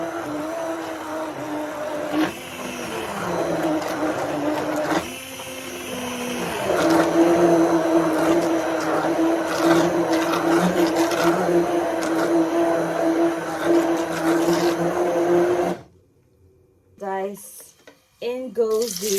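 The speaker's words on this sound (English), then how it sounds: "start off by blending our blendables comprising of our spinach" A blender whirs steadily as it purées spinach for a Mexican-style green rice, a loud, even motor drone with a shifting pitch that runs for about sixteen seconds and then cuts out, with a voice speaking over it.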